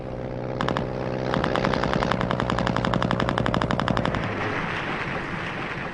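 Heavy World War I anti-aircraft fire aimed at low-flying bombers, a loud sustained burst of rapid automatic shots lasting several seconds over a rumbling background before cutting off.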